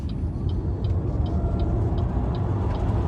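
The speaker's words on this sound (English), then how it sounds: "Time to do a quick launch of the BYD Sealion." A BYD Sealion 7 electric car launches from 0 to 100 km/h on an open road, a loud, steady rush of road and wind noise with faint rhythmic ticking, heard from inside and unbroken, with no speech.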